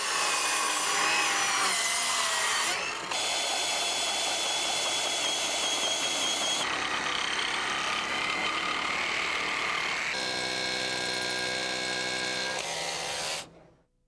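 DeWalt 24-volt cordless reciprocating saw cutting through wood, a loud steady buzzing rasp broken into several bursts before cutting off abruptly at the end.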